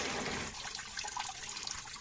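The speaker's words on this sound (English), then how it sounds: "dump some more water in my driveway" Coolant water pours out of a Chevy Colorado's cooling system at the thermostat housing and splashes onto a driveway, a steady broadband gush that continues for the whole stretch without talk.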